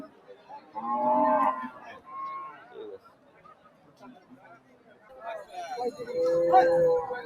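Two loud, drawn-out cattle moos ring out close by at a cattle market ahead of Eid al-Adha, separated by a quieter stretch with faint background chatter.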